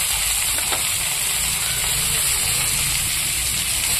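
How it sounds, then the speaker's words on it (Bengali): Radish greens added to a hot wok with black cumin and garlic, giving a continuous close, steady hissing sizzle with no talking. "এবার আমি কালো জিরা ফোড়ন দিয়ে মূলো শাকটাকে ভেজে নেব।"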